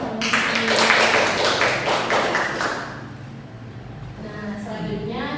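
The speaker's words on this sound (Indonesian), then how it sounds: "Beri tepuk tangan untuk" A classroom group breaks into applause during a micro-teaching lesson, with loud clapping at first that fades away, and a voice then talking over the room.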